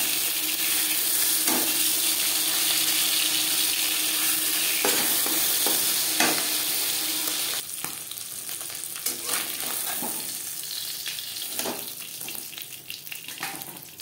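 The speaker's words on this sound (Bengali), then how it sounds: "মাছ একটা সাইড ভাজা হয়ে গেলে" Fish sizzles and spits in a pan with a little oil, a steady crackling hiss close by, broken by sharp scrapes and clinks of stirring and turning that grow more frequent toward the end.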